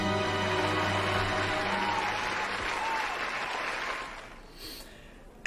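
A crowd at a live Dungeons & Dragons stream erupts in loud, sustained applause and cheering after a winner is announced, dense clapping that fades toward the end.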